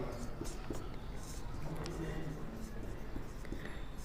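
Chalk or marker scratching on a classroom board during a Hindi physics lesson on refraction, a steady scraping texture running beneath a teacher's continuous lecturing voice.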